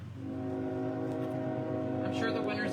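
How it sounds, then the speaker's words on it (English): A train passes close by, a steady loud rumble with sustained tonal horn or whistle notes holding throughout, brightening with hissing noise near the end. "We have another train."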